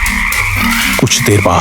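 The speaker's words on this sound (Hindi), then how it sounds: "कहीं कहीं मेंढक की टर टर और झिंगुरों की आवाजें गूंज रही थी" Frogs croak at night beside a narrow, dark road lined with dense trees, a loud, close chorus of repeated croaks while a voice speaks over it.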